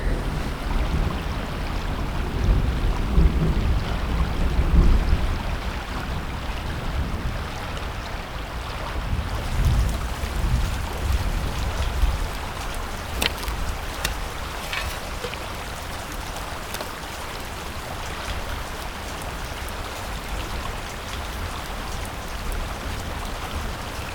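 Rain falls steadily in the Australian bush, a dense continuous hiss with scattered drops and gusts of wind, heavier at first and easing to a lighter patter, with no voices.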